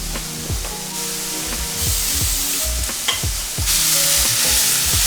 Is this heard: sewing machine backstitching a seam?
no